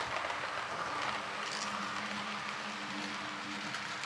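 SU46 locomotive hauling a train out of a tunnel on the Żagań–Cottbus line, a steady broadband rumble with faint low engine tones, continuous and moderately distant, no talk.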